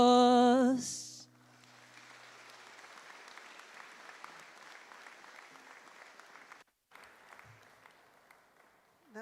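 An audience claps steadily at a university graduation ceremony after a sung performance, sustained applause that fills the hall for several seconds, with a brief drop near the end.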